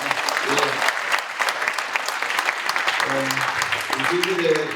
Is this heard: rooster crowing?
no